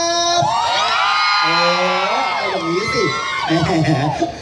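Audience at a Thai army housewives' association event cheering and shouting for a young singer, a loud sustained crowd roar with whoops and screams rising and falling throughout.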